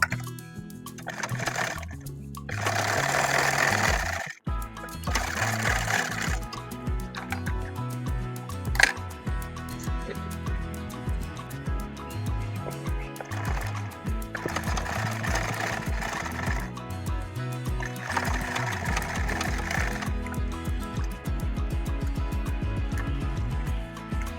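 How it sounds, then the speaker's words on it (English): A sewing machine runs in repeated bursts while stitching tote bag lining panels together at the base, with its whirring rising and stopping between short pauses and soft handling sounds. "I'm going to place my lining panels right sides together and then just stitch it at the base."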